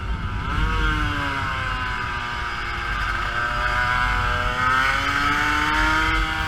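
A Honda NSR racing motorcycle on a track screams at high revs, its two-stroke engine whining steadily with rising and falling pitch through shifts, loud and close throughout without any talk.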